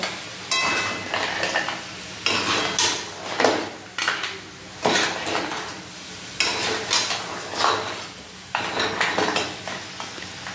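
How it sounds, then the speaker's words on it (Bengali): Crab curry with coriander powder being stirred in a pan, a spoon scraping and clattering against the metal in repeated bursts over a low, steady sizzle, close by with no voices. "এই ধনে গুঁড়োটা দিয়ে আমি আবার একটুখানি নাড়িয়ে চাড়িয়ে 2-3 মিনিট কষিয়ে নেব।"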